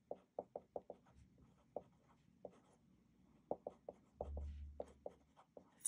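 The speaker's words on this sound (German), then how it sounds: "Und schreibe es auch nochmal hin." A pen writes on a paper worksheet in quick, close taps and short strokes, a run of sharp scratchy marks with a pause in the middle, faint and without talk.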